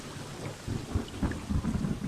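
Gentle rain falling steadily as a soft, even hiss, with low rumbling swells beneath it and no voices.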